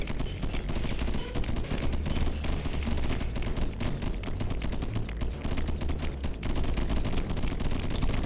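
Dense, rapid automatic gunfire from defensive turrets in the co-op sci-fi mining shooter Deep Rock Galactic, set up to guard an area during a swarm. It rattles loudly and continuously for the whole stretch, with no talk.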